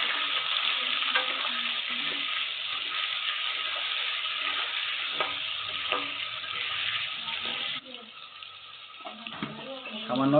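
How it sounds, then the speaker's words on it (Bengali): Potatoes frying in hot oil with a little turmeric and salt, giving a steady, close hiss and crackle throughout that thins out near the end, with faint clatter and a brief voice in the background. "আলুগুলো ভাজার জন্য বন্ধুরা গরম তেলে আলু দিয়ে দিলাম।"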